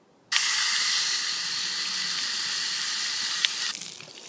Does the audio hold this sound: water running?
yes